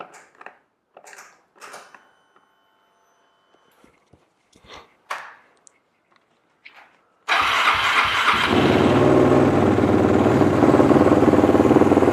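A Quadracer LTR450 ATV with a suspected fuel system fault, likely a bad fuel injector, sits quietly through a few clicks and handling noises, then its engine fires up and runs at a loud, steady idle.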